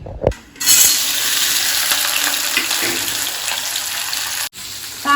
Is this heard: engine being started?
no